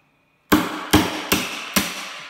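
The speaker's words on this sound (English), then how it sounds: "And we'll chisel it out." A hammer striking a chisel to carve out a wooden bowl: four sharp, loud, close blows in a steady rhythm after a moment of near silence, each with a short ringing decay.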